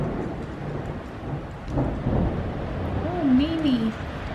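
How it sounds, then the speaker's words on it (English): Steady rumble of a storm with rain and wind, a low thunder roll swelling midway, while a voice calls out faintly over it. "Let's sit and watch the storm."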